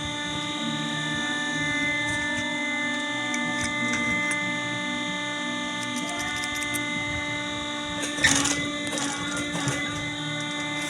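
A household sewing machine runs continuously while stitching, giving a steady mechanical whir with fine rapid ticking, joined by a brief louder clatter near the end.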